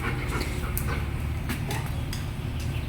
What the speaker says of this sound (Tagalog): Okay naman itong mga aso natin.